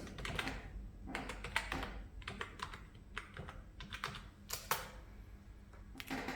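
Keys clatter on a Mac keyboard as a password is entered, uneven bursts of quick soft clicks with short pauses, close and fairly quiet, no talk.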